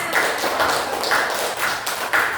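Applause for a winning group in a primary school classroom competition, a short burst of clapping from several people that pulses in rough waves, fairly close and loud.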